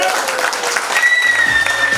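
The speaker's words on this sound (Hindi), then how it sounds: "जोरदार तालियां।" A loud burst of audience clapping at a Parinam Healthcare talk, brief and steady, with a tonal whistle-like tone and some low rumble layered underneath.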